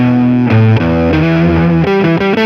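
An electric guitar played loud through a distortion or overdrive pedal rings out in a string of gritty, sustained notes and chords, changing pitch every half second or so, with no talking.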